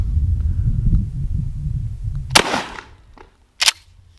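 A Mossberg 590 pump shotgun fires a slug outdoors: one sharp, loud blast with a brief decaying tail, then a second short crack about a second later over low rumbling wind.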